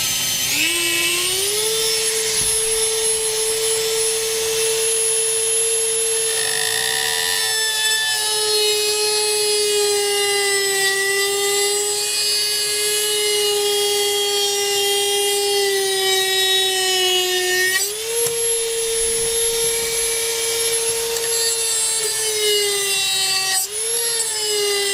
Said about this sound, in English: The good old Dremel 4000.